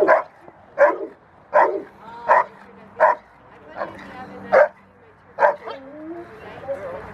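A small dog gives sharp, evenly spaced barks and yips, about nine in a row, close by and moderately loud, with a faint whimpering tail near the end.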